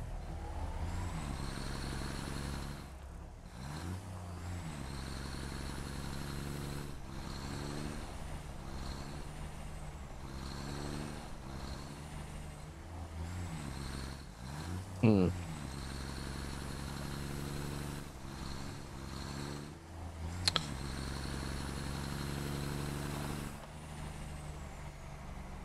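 A truck drives steadily in the video game Satisfactory, its engine droning continuously with shifting harmonic tones, a sharp bang and clatter near the middle and another brief knock later, with no voices.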